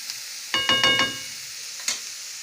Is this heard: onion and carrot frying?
yes